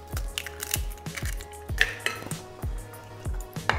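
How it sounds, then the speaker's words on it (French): Eggs being mixed into chocolate batter in a bowl, a regular rhythm of sharp utensil knocks against the bowl, roughly two per second, with soft wet stirring between them, close up and without speech. "Vous continuez à bien mélanger."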